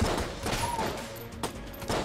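Gunfire from the video game Enter the Gungeon, a dense, continuous stream of rapid shots at steady volume, loud in the game mix with no talking over it.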